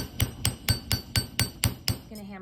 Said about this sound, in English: If I start hammering over that